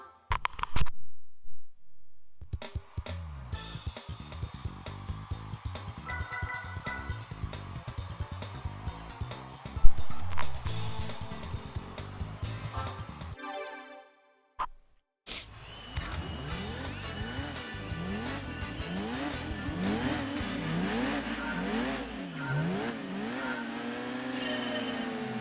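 Race car engines roaring around the long version of the Rome City street course in Gran Turismo 2, with a Clio V6 in the field: loud, sustained engine drone with rising and falling revs and gear shifts, broken by brief silent gaps, no talk.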